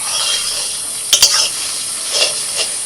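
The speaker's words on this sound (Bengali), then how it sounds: "কড়াইতে অল্প সর্ষের তেল দিয়ে এখন এই ডিমটা ছেড়ে দিচ্ছি" Beaten egg hits hot mustard oil in a wok, a loud steady sizzle with a few sharp bursts and scraping clinks of stirring, close up and without talk.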